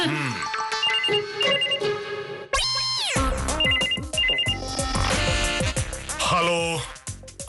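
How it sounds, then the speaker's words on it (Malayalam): A telephone rings in a domestic comedy scene, repeated electronic ring bursts punctuated by musical stings and background music. "ചെന്നാ ഫോൺ എടുക്ക"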